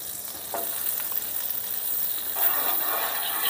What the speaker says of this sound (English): the grill is hot. Put a little butter on here, real butter.